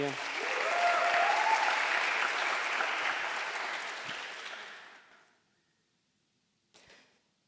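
Church congregation applauding after a sermon, a dense sustained wash of clapping that swells, holds for about four seconds and fades out, with a brief faint burst near the end.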